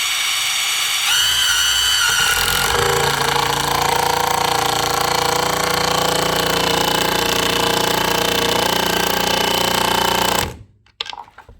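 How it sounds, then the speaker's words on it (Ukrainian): A cordless impact wrench runs in one long burst, a loud rapid hammering rattle with a buzzing motor that holds steady for about ten seconds before it stops abruptly. "переходимо ми до цього вже гайковертика і звертаємо увагу, наскільки його буде робота потужніша"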